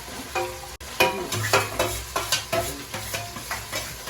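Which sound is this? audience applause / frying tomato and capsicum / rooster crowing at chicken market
frying tomato and capsicum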